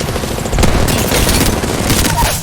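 Rapid automatic gunfire from an Apex Legends match rattles in dense, loud bursts with a sharp report partway through, continuous and close throughout.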